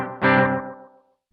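A single bright electric guitar note through a Gokko Audio Dripping Analog Delay pedal set to very short repeats rings out and smears into a dense wash of rapid, tightly spaced echoes that fade away within a second.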